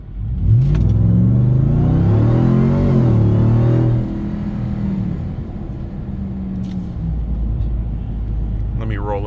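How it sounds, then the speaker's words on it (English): Supercharged Ram TRX V8 fitted with a K&N full intake revs hard, a loud rising and falling engine roar that then settles into a lower steady rumble, heard close with someone speaking over it. "Just a very faint sound of the supercharger whine."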